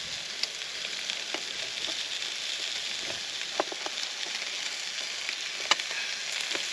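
Food fries on a portable camp cooking stove with a steady, close crackling sizzle and scattered sharp pops throughout.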